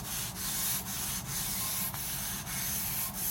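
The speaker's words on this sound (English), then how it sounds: "Some sand cloth, kind you would sand copper tubing with." Steady rasping friction of a narrow strip of sand cloth worked back and forth inside the short side radius of a Dart cylinder head intake port, loud and close with brief regular pauses between strokes.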